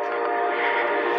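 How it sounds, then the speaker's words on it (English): A steady rail rumble with a dense band of metallic tonal harmonics, a train rolling past close by at constant loudness, with no voices. "The train's coming. Hear that?"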